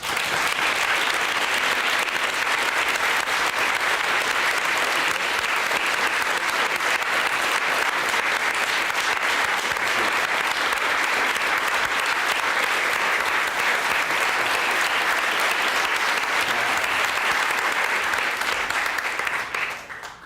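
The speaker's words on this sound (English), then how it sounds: "with a huge round of applause" An audience gives a long, steady round of applause welcoming a professor to the stage for a lecture on rainbows, dense clapping sustained for about twenty seconds before tapering off.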